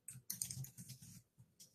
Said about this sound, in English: I'm typing and talking.